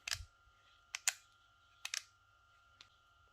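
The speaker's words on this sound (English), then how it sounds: "It's got clicking lever." Sharp plastic clicks from the lever on a dark brown transparent VGR V165 hair clipper, a few separate close clicks and double clicks spaced across a quiet background, with no talking.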